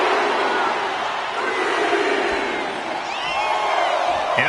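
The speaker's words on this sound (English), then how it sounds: "The suspense this crowd is feeling is palpable." A WWE wrestling crowd roars and cheers during a match, a loud continuous swell of many voices with scattered shouts rising near the end.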